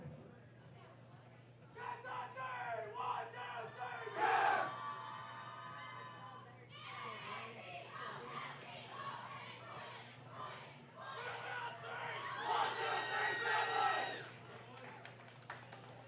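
Bowling teams at a high school boys' bowling tournament cheer together before play, a loud burst of shouting and chanting voices rising and falling over crowd chatter in a busy bowling alley, with a steady low hum underneath.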